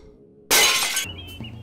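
Glass is smashed once, close and loud, in a short crash that stops abruptly. A quieter tinkle and the ringing of shards follow it.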